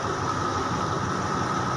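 Special express train number 8 passing through, a steady, fairly loud rumble of rail cars rolling by without any break.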